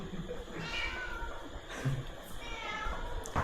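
A cat meows faintly a few times in the background of an outdoor rural scene, the cries soft and drawn out under low ambient noise.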